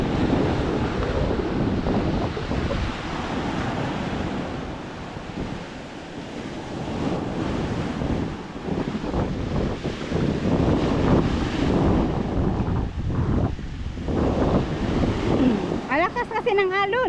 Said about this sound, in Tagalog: Alakas kasi ng alon.